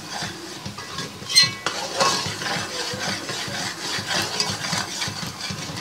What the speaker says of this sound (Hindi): अब इसमें हम ये भुनी हुई सूजी ऐड कर देंगे और चमचा चलाते हुए इसको पकाएंगे